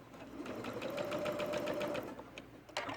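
Sewing machine running fast as it stitches a tunic, a steady close mechanical whir with rapid needle clatter for about two seconds, then slowing and stopping.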